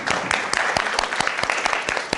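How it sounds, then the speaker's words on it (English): An audience at an emergency preparedness workshop at Centennial College applauds to welcome guests, a steady, fairly loud patter of many hands with sharp individual claps standing out throughout. "A round of applause, a warm welcome."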